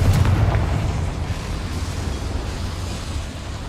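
Confringo explosive spell cast in the Hogwarts Legacy video game, a loud low booming blast at the start that rolls into a sustained rumbling tail, with no voices.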